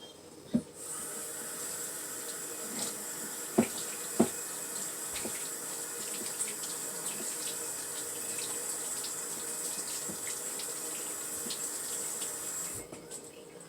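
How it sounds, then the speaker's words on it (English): Running tap water pours steadily into a sink as hands are washed in a home kitchen, a close, even hiss lasting throughout with a few soft knocks and clunks. "let me wash my hands after picking him up"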